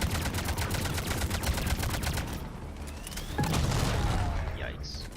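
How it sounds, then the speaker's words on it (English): Rapid machine gun fire with electric ammo in the game Mass Effect Legendary Edition, a dense rattling burst of shots that continues almost throughout, with deep booms and zapping effects layered in, loud and close. "machine gun."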